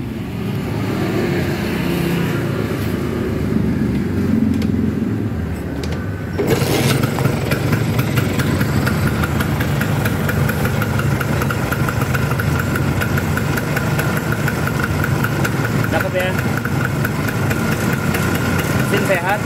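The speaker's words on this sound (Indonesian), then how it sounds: "Sekarang kita coba dulu mesinnya." A 1968 Vespa Sprint scooter engine starts at about six seconds with a sudden catch, then idles in a steady close buzzing putter, loud and continuous to the end.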